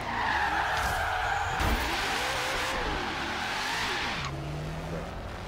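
A muscle car's tires skid and squeal while drifting in the racing game Forza Horizon 3, with a loud continuous screech over the engine drone lasting several seconds and no voices.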